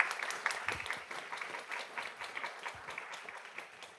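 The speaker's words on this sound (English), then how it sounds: "Let's give them a big round of applause." Applause from the audience at a school board meeting, a dense patter of many hands clapping at a moderate distance, steady for several seconds before gradually thinning.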